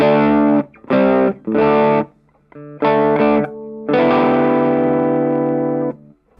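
Electric guitar on a single coil pickup with a cleaner, less saturated drive: several short chord stabs in an uneven rhythm, a brief gap, then a held chord ringing out for about two seconds before stopping.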